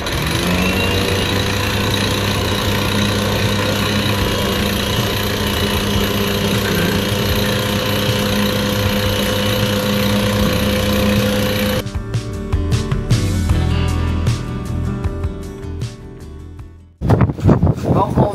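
A boat's engine drones steadily and loudly at sea near the Tobago Cays, a rough mechanical hum, then cuts to louder, choppier wind and engine noise toward the end.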